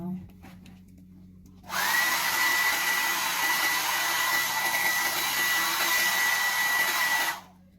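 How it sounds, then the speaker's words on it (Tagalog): A handheld hair dryer blasts a steady, loud roar for several seconds while drying freshly colored, previously bleached hair at home, starting abruptly after a quiet moment and cutting off near the end. "gagamit tayo ng blower. Para kunyari nasa parlor tayo."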